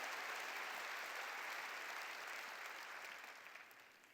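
A church congregation at a 2015 New Year revival service applauds to give glory to God. The sustained crowd clapping is fairly distant and quiet, holding steady before tapering off near the end.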